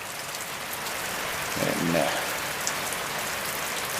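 A steady patter of rain falls on surfaces across a home lawn, a soft, even hiss throughout, with someone briefly speaking near the middle.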